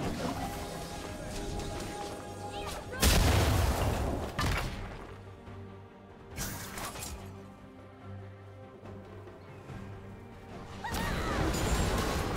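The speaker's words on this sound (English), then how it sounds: "Blue Team's turret has been destroyed." A turret in League of Legends is destroyed, with heavy crashing impacts and booms landing in three separate surges over ongoing game ambience and effects.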